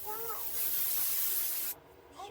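A continuous hiss of rust-preventive aerosol spray on a lapidary saw lasting over a second, close and fairly loud, stopping abruptly; a voice speaks briefly before and after.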